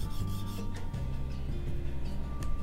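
A skew plane iron is honed freehand on a sharpening stone, giving a steady, close scraping rasp of steel rubbing back and forth in continuous strokes, with no speech.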